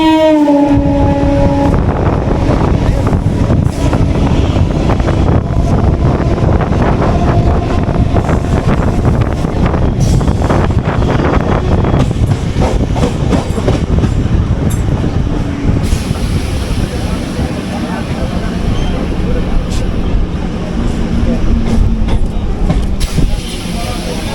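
A moderately crowded Bongaon local train in West Bengal rolls along with a loud continuous rumble and clatter, wind buffeting and a short horn-like tone at the start, with voices blending into the din throughout.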